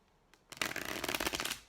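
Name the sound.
shuffling tarot cards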